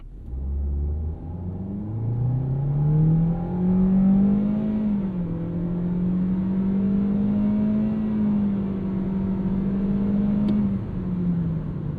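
A 2026 Toyota Corolla Hatchback FX with a CVT accelerates from a stop with traction control off, its engine note climbing smoothly and then holding at a steady drone, with no voices over it.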